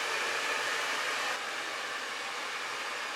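A hair dryer blows steadily on a lace front wig, a close, even rushing whoosh that drops slightly in level partway through, with no voices.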